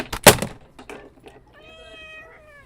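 A cat meows once, a clear rising-falling tonal call near the end, after some clattering and knocking noises close by; no talk.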